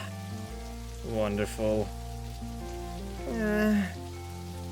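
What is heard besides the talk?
rain falling, from video game Necrobarista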